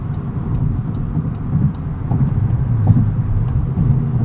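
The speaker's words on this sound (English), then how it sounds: "you can really rev match downshifts very easily in this car" A 2022 Volkswagen Golf R with a six-speed manual is heard from inside the cabin, a steady engine and road rumble that swells and eases in short surges as it revs and downshifts.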